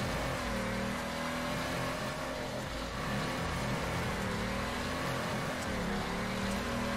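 A Nissan 350Z drift car with either a V8 or an RB26 swap revs hard in fourth gear, a loud, continuous engine roar that holds steady for several seconds with no voices.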